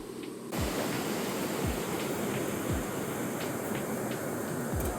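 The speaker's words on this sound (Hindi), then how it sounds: "चट्टानों से पानी बरस रहा है" Water spills off rocks beside a mountain pilgrimage trail toward Shrikhand Mahadev near Barati Nala, making a steady close rushing hiss broken by regular dull low thumps.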